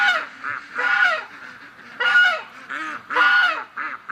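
Ducks, one with a badly healed torn neck, give repeated loud goose-like honks in short bursts outdoors in winter, close by, with no talking.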